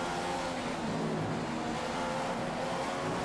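Race car engine in the F1 2015 video game at the Chinese Grand Prix, a continuous loud droning roar held steady throughout with no voices over it.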